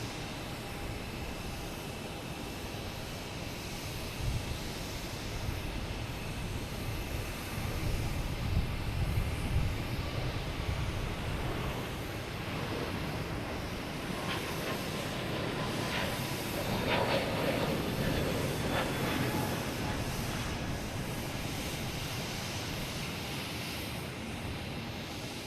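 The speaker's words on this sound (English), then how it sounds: "Next to arrive is American Airlines A319 coming in from" An American Airlines Airbus A319 inbound from Washington Reagan rumbles on approach to Boston Logan, a steady broad jet roar that swells and holds, with a faint tonal whine rising near the middle.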